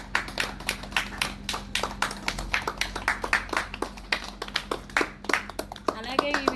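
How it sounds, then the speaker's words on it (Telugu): Elderly residents at an ashram clap in a steady, scattered round of applause, close and sustained, with voices talking over the clapping. "అందరూ థ్యాంక్స్ చెప్పండి క్లాప్స్ కొట్టండి"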